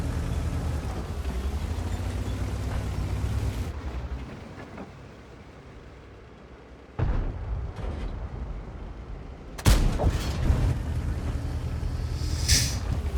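In a tank video game, a Vipera tank destroyer fires its gun in two sharp, booming blasts a few seconds apart, rising out of a low engine rumble and wind-like hiss.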